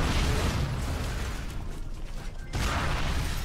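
A gunshot and explosion in the video game Unreal Tournament 4, during a deathmatch against bots. It is a loud burst with a booming tail, fades into a short lull, then another blast.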